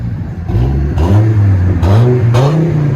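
A Dodge Viper-engined truck fitted with the quieter of two exhaust setups revs in several quick blips, a loud deep rumbling engine note rising and falling close by with no talking.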